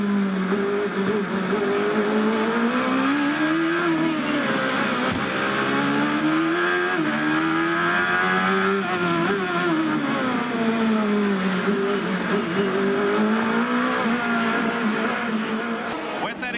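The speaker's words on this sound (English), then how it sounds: "We listen to Bobby Rahal as he works his way through the gears on this circuit." CART race car at the 1991 Long Beach street circuit, engine screaming loud and continuous as it climbs and drops in pitch through repeated gear shifts, with a commentator talking over it.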